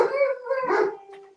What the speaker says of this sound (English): Yeah, go ahead, keep barking.